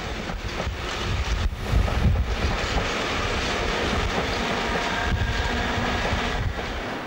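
Westbound train pulling out of Upminster station past a London Transport signal box beside the District Line depot, a steady broadband rumble with wind buffeting the microphone, swelling briefly then holding at an even level.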